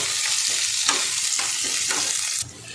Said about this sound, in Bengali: দেখুন বন্ধুরা, এইভাবে নেড়ে চেড়ে পেঁয়াজটা ভেজে নিতে হবে